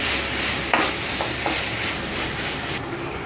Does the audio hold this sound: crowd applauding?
no